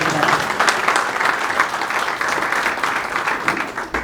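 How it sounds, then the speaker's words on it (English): Enthusiastic crowd applause at a commemoration of the 164th arrival of Indian indentured labourers in KwaZulu-Natal, continuous close clapping that stays full for the whole stretch. "So I think a big round of applause for that, please,"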